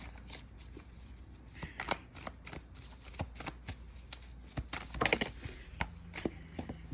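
Tarot cards riffled and shuffled by hand, a fast run of crisp papery flicks and slaps with a few louder clacks as cards drop, close and alone with no talking.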